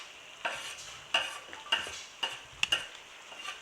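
A utensil stirs scallion, culantro or cilantro and tomatoes into a curry being made with canned salmon, giving quiet, regular scraping strokes about every half second over a soft background sizzle.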